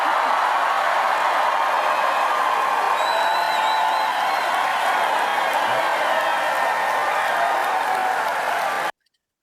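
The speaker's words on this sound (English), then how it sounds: "I actually think you could hear the excitement in that cheer" A large crowd at a Democratic political rally cheers and applauds steadily and loudly for about nine seconds, a dense roar of voices and clapping that cuts off abruptly at the end.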